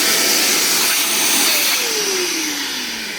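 A Stanley vacuum cleaner converted from 110 VAC to 220 VAC runs steadily and loudly close by, a broad whooshing roar with a whine sliding down in pitch as it pulls in rocks and pebbles.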